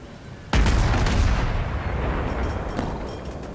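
A single heavy naval cannon blast in the video game World of Warships booms suddenly, followed by a long rumbling roar and a fainter second shot, loud and close.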